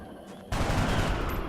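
A flanking gunshot from a soldier in the XCOM Long War video game erupts suddenly after near silence, a loud burst of rapid automatic fire that sustains to the end.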